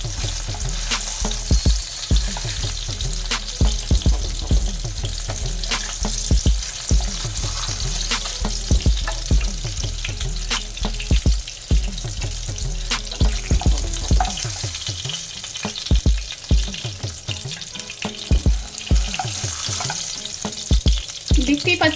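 Hilsa fish pieces frying in hot oil in a pan, a loud close continuous sizzle with frequent spatters and crackles and rhythmic low knocking throughout, no voices.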